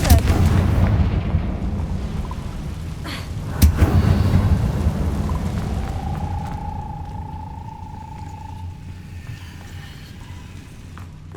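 Confringo blasting spell in Hogwarts Legacy: a loud, deep explosive boom at the start, then a second heavy blast a few seconds later, with rumbling debris fading into a low tonal hum, no talking.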